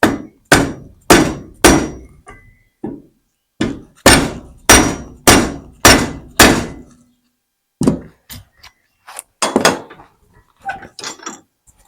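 A hammer strikes a handle onto a handmade pig-sticker knife in a run of loud, evenly spaced blows, pausing once before another steady series, then ending in lighter, scattered taps close by.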